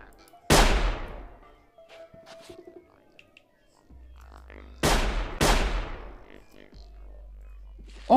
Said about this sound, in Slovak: Títo po sebe začínajú strieľať